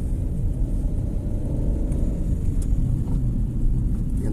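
A car on a driving test accelerates with a loud, continuous low engine rumble that rises slightly, heard from inside the cabin, with no talk.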